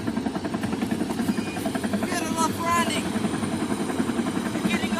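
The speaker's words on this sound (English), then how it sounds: "It's time to hop off the helicopter." Helicopter rotor and engine noise, a steady loud drone with a pulsing beat that runs throughout, heard close by while people talk over it.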